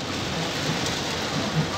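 Steady rain falling during a drive, a dense continuous hiss of drops drumming on the car with no break across the short stretch.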